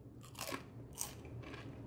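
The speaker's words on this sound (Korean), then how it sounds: "얘는 작은 거라서 통째로 씹어 먹을 수 있게 바싹 튀겨가지고 한번 통째로 넣어볼게요" Crisp crunching as a small, whole deep-fried bullfrog leg is bitten and chewed, two or three brittle cracks close to the mouth, fairly faint, with no talk.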